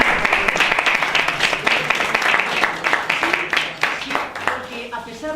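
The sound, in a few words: audience applause for a birthday guest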